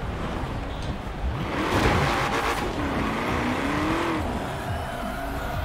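Ford Deluxe 5 Window Coupe engine in the racing game Forza Horizon 4, a steady mid-volume engine drone with a rising and falling pitch and faint tire noise, no voices over it.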